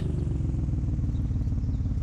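A Toyota Supra engine idles in Forza Horizon 4, a steady low rumble holding level and continuous throughout with no revving, alone and fairly close.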